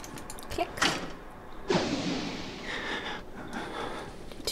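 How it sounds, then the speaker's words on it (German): A door swings open in the horror video game Outlast, with a couple of sharp clunks followed by a longer creaking, sliding rush and faint breathy sounds, fairly close and without talk. "Die Tür ist aufgegangen."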